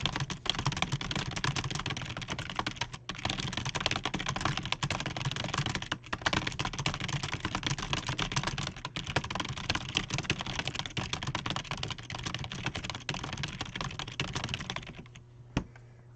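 Rapid, continuous typing on a computer keyboard, dense clattering keystrokes close and steady for about fifteen seconds with a couple of brief gaps, then stopping near the end.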